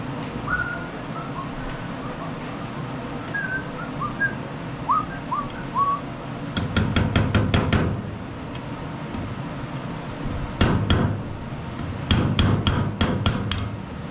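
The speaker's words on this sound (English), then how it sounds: "Let me find an old screwdriver to hammer with." Rapid metallic hammer strikes from an old screwdriver used as a hammer during a Honda HRX217 mower timing belt replacement come in bursts of several quick blows, separated by pauses, while a whistled tune and birdsong sound faintly beforehand.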